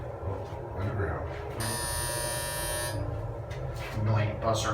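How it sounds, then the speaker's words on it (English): A loud electronic buzzer in a KONE hydraulic elevator at the World Trade Center MBTA station, Boston, sounds steadily for about a second, with people talking and moving nearby before and after. "Annoying buzzer."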